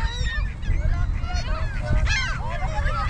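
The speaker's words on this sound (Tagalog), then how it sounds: "Ay, ang bibe yan." Several ducks honk and squawk close by in overlapping, repeated calls, with people talking underneath.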